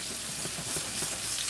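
Sirloin steak sears in a frying pan with garlic jerk butter, giving a steady, close hiss of sizzling fat for a brief moment.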